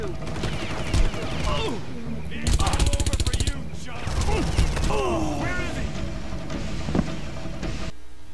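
Rapid bursts of automatic gunfire from the video game Far Cry 5 crackle in repeated volleys, with a long heavy burst mid-clip, while someone talks over the shooting.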